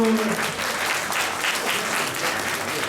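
A room full of people at a school entrance ceremony applauds steadily, dense clapping at an even loudness throughout with no voices on top.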